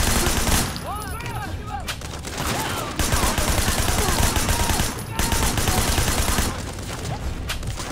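Rapid bursts of gunfire in the Sleeping Dogs video game ring out loudly and almost continuously, with short gaps between volleys, while a voice speaks briefly over the shooting.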